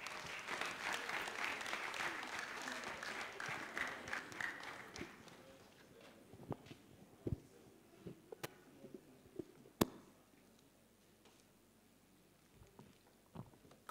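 Audience applause at a Nigerian conference session, a dense roar of clapping for about five seconds that thins out into scattered, separate claps.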